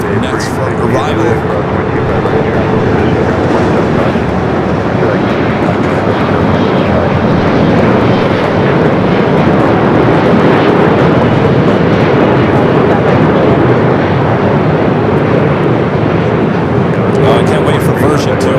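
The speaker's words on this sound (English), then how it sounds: "Korean Air Flight 17 coming up from Seoul. The 8-year-old 747-8 Intercontinental up next for arrival." Loud, continuous jet roar from a Korean Air Boeing 747-8 Intercontinental arriving at LAX from Seoul, a broad sustained rumble across the whole stretch with faint voices underneath.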